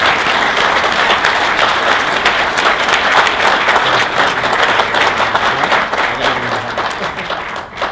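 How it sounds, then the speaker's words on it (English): Audience at a National Veterans Foundation 20th anniversary celebration applauding a guest speaker, loud dense clapping that holds steady for about eight seconds and then thins out, with a few voices mixed in. "Everybody, please give Tad a very warm round of applause."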